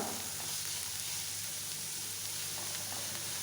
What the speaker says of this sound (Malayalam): നമ്മൾ മീഡിയം ഫ്ലെയിമിലിട്ട് സവാള വഴറ്റിയെടുക്കുന്നുണ്ട്